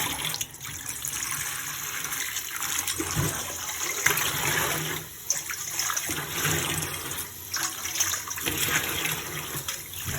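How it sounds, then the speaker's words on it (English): Water sloshes and pours out of a container after washing Irish moss seaweed, a steady, fairly loud rush with a few surges and splashes running for about ten seconds, with no talking. "Throw that water out."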